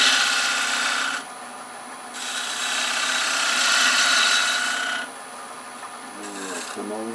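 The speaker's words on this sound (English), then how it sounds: "Come in with his detail gouge. Bracing it with my little finger and slicing it in," A detail gouge slices into Bradford pear wood spinning on a lathe, giving a steady rasping cut over the motor hum in two long passes with a brief lull between. A voice speaks faintly near the end.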